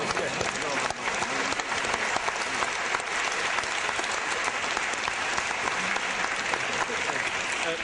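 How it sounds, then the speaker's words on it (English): Sustained audience applause at a public debate between two philosophers, dense steady clapping throughout, moderately close and filling the room without pause. "Now, do we applaud to you also? I think you deserve it."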